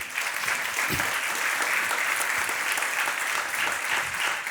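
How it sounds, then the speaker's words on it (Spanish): Steady, dense applause fills a church congregation's sermon moment, sustained and fairly close for the whole stretch without pause, with no talk over it. "Dele un aplauso al Señor."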